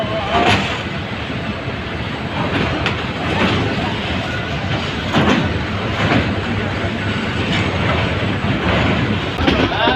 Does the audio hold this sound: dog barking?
no